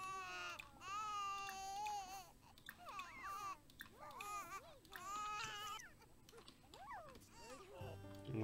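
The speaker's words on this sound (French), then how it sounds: "Il y a le bébé qui pleure." A baby cries and babbles in The Sims 4, a wavering high-pitched wail that rises and falls in bursts over several seconds, mixed with game sounds and background noise.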